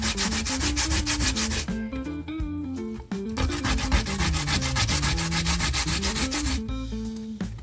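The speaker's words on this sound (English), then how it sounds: "Grate my coconut, grate my potato and everything." Coconut and sweet potato being grated by hand for Jamaican sweet potato pudding: a loud, steady rasping scrape in continuous strokes, with a pitched melody running underneath.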